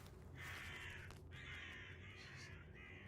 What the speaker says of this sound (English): Those crows made me jump.